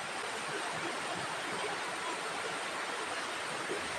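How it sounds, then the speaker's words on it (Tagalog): A river flows steadily, a constant broadband rushing wash with no breaks, close and fairly loud, with no voices. "yan yung ilog kanina."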